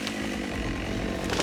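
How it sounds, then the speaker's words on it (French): A forestry worker's high-performance chainsaw runs steadily at high revs, loud and close, a continuous buzzing whine with no voices. "Les ouvriers forestiers travaillent avec des tronçonneuses toujours plus performantes."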